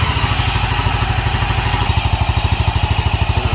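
A 200cc Vitacci Kandi Batman engine runs loud and close, its steady pulsing idle firming into a faster, more even beat as the throttle climbs, with a continuous mechanical clatter and no talk.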